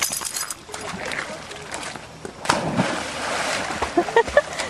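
Water splashes and sloshes as a dog wades and paddles in at a dog park, with a few louder splashes near the end and a person talking in between.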